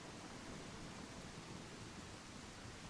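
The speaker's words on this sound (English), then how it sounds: "You can have dynamic rain." Dynamic rain with thunder in an Unreal Engine 5 open-world gladiator game: a steady, dense wash of rainfall with low rumbling underneath, constant and even throughout with no voices.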